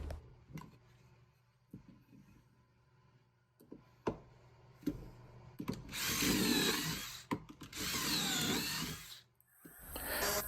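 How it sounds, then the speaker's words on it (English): A drill bores pocket holes into 1 1/2 by 1 1/2 inch wood pieces for a farmhouse chair, with two loud bursts of drilling after a series of quiet clicks and knocks from handling the workpieces. "with 3 of the 5 1 1/2 by 1 1/2 by 14 inch pieces, we will drill 2 pocket holes in each end of those."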